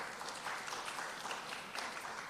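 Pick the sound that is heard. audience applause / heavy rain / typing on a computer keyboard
audience applause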